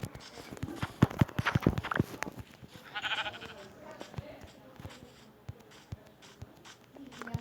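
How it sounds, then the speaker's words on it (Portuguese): Sheep bleating inside a video game, heard briefly amid clattering game sounds and several people talking over it. "Ovelha."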